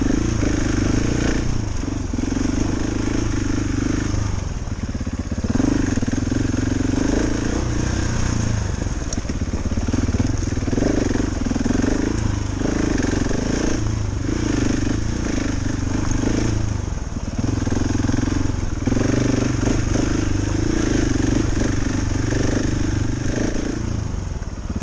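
KTM 690 Enduro R dual-sport motorcycle engine droning steadily while riding, with a loud, continuous single-cylinder rumble that rises and falls gently with throttle over the whole stretch.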